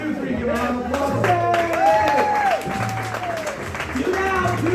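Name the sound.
audience applause at a game show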